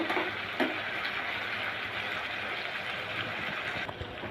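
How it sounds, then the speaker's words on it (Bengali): Pieces of kochur loti (taro stolon) and slit green chillies being stirred with spices in a pan, a steady low sizzle with soft scraping and one or two brief knocks near the start. "এখন মশলার সাথে ভালো করে মিশিয়ে নিব।"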